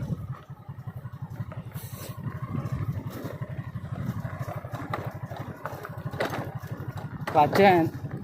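Motorcycle engine pulling in second gear on a steep ghat road near a village, a steady low throbbing hum throughout with a brief louder rise near the end, heard alongside a voice.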